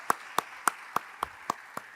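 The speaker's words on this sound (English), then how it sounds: "let's give him a round of applause" Sparse, evenly spaced hand claps ring out in a community event hall, about seven sharp claps in under two seconds, fairly faint and distinct against a quiet room.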